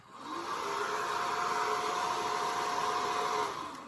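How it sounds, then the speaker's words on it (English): A steady, loud whooshing hair dryer hum, drying brush-on glaze, that rises in, holds constant for a few seconds, then tapers off at the end. "I'm just using the hair dryer to you know speed up the process a bit"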